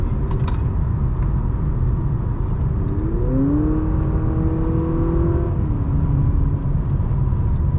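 A 2023 Honda Accord Sport cruises along a winding road. Its engine hums steadily inside the cabin, and the pitch rises and falls smoothly as it works through a corner against a constant road rumble.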